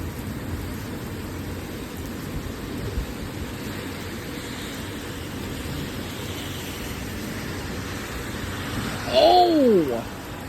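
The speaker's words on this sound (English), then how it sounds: "Oh, here comes the rain." Rain pours steadily through a thunderstorm in Milwaukee County, a dense continuous hiss filling the whole stretch, with a brief louder burst of voice near the end.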